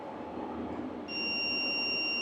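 A continuity tester checking dash wiring on a Land Rover Series 3 restoration gives a steady high electronic tone that switches on partway through and holds loud and unbroken to the end, following a stretch of quiet room noise.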